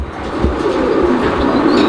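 A pigeon at a pet bird shop in Bangladesh gives soft, low coos, close and brief, over a steady background murmur of the shop.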